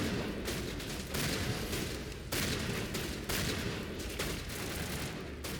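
Gunfire in the Mass Effect video game crackles in heavy bursts, with several loud blasts cutting through a dense, noisy battle din with no talking.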